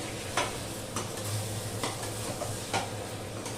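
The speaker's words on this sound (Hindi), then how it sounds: "तो चिकन भून रही हूँ मैं" Chicken fries in a home kitchen pan, a low steady sizzle with a few scattered scraping strokes of the stirring spoon over a faint hum, close and unvoiced.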